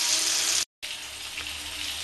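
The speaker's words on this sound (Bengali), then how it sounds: "আলুটা একটু ভালো করে ভেজে নেব।" Potatoes frying in oil, a steady close hiss of sizzling that cuts out for a split second, then continues evenly.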